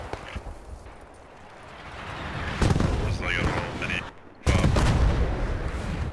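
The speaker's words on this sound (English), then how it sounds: "I'm hearing the gun shoot right now" Gunfire in the tactical video game Post Scriptum, with loud booming shots bursting in near 2.6 and 4.5 seconds over continuous battlefield rumble, while a voice talks over the action.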